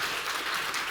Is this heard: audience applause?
yes